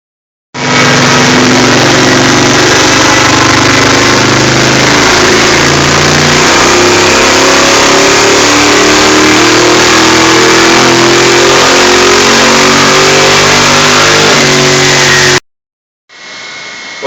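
A 1968 Chevrolet Nova engine roars at sustained full load on a chassis dyno, its pitch climbing steadily through a long, loud pull before cutting off abruptly, then briefly restarting at the end.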